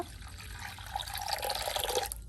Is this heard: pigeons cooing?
no